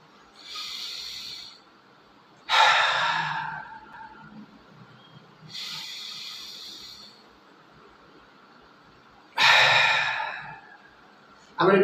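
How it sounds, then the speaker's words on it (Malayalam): A person takes deep breaths, alternating a steady inhale with a forceful, raspy exhale pushed through the throat, repeated about twice in a quiet room with no talking. "ഡീപ്പായിട്ട് ശ്വാസം എടുത്ത് ഒരു ജസ്റ്റ് ഒന്ന് ഹോൾഡ് ചെയ്തിട്ട് ശക്തമായിട്ട് ഈ തൊണ്ടയിൽ കൂടെ ഒരു ശബ്ദത്തോടു കൂടി വേണം ഇത് പുറത്തോട്ട് വിടാൻ"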